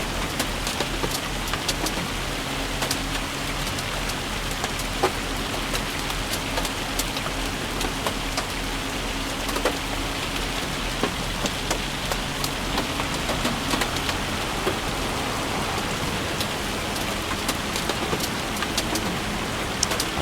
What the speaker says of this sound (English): wow, hail.